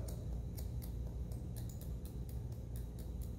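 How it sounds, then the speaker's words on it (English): Scissors snip through hair held at an angle in a steady series of quick, crisp clicks, close and regular over a low constant background hum. "So I'll just go through, holding my scissors at a bit of an angle,"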